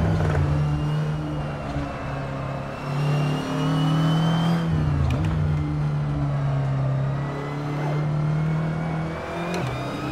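Audi TT Cup race car in Assetto Corsa at the Montmeló circuit, with a steady loud turbocharged engine drone, dipping briefly and returning as the car runs through gears, alone without talk.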